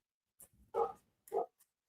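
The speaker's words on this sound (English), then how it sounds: "y'all probably hear my golden retriever out there barking" A golden retriever barks outside in the yard, two distinct barks about half a second apart at moderate distance, with a faint softer yelp just before and a tiny trailing yip.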